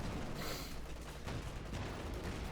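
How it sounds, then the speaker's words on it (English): Anti-tank gun and small-arms gunfire in the strategy video game Company of Heroes 2, faint rattling bursts and a muffled heavier shot under a low battle din. "Second shot misses from the anti-tank"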